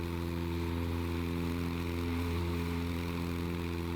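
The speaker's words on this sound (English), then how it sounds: "I love the sound of the engine in this" Cessna Skyhawk single-engine propeller plane in the MSFS 2020 flight simulator with the Boris Audio Works sound set, its engine droning steadily and loudly throughout with a constant low harmonic hum.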